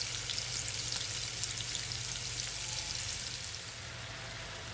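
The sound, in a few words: prawns frying in oil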